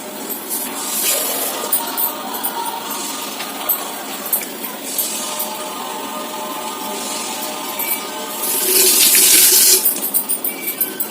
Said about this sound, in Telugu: కొంచెం అయితే వాటర్ పోసుకుందామండి. ఎంత పోసుకోవద్దు, ఈ మిక్సీ జార్ కడిగినంత.